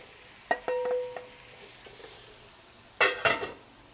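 Onions, garlic, carrots and celery for a pot roast cooking in a pot, a faint soft sizzle under a few clinks of a utensil against the pot and a louder scraping stir near the end.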